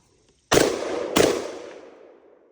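An Atrius Super Selektor Diamondback AR15 pistol with a forced reset trigger fires two loud, close shots about 0.7 seconds apart, followed by a long fading echo.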